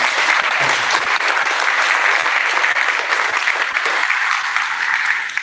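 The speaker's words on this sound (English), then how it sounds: "Would folks be willing to give the Post-Office Center a round of applause?" An audience at a North Greenpoint construction task force community event applauds the Post-Office Center, giving steady, dense clapping that holds at even loudness for about five seconds, with no talking over it.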